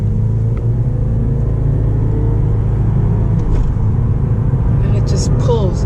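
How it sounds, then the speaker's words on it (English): A turbocharged Lexus GS 200t sedan pulls hard under acceleration, a loud, continuous engine rumble and drone heard from inside the cabin with a faint whine rising near the end. "Just pulls. After that turbocharged kicks in, this is like a baby GSF."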